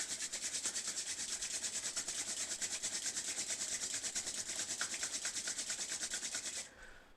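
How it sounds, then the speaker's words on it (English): Palms rubbing briskly together during a yoga session, a close, steady rhythmic swishing of skin on skin that continues for several seconds and then stops abruptly. "Rub the palms against each other."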